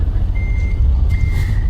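A truck reverses with its backup alarm sounding, a steady high tone held in two long beeps over a constant low engine rumble, close and loud.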